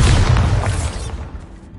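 Spell blast from the Bombarda charm in the Hogwarts Legacy video game: a loud, deep booming explosion at the start that rumbles and slowly fades over under two seconds.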